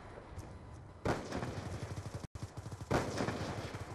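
Rapid automatic gunfire from the video game Black Ops 2, two loud bursts of fast rattling shots with a brief cut between them.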